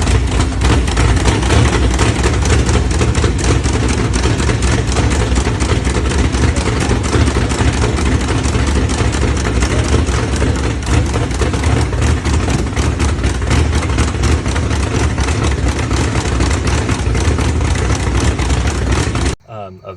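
A 388 stroker V8 in a solid-axle-swapped S10 Blazer running loud and close, a rough, lopey idle with steady heavy rumble throughout, cutting off just before the end.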